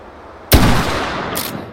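A single sharp gunshot from a WWI-era infantry weapon in a VR shooting game, fired at clay pots, with a loud close crack followed by a decaying echoing tail and a faint metallic click after.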